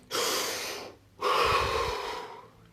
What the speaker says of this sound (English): Series of deep breaths, expansive deep breaths. As deep as you can.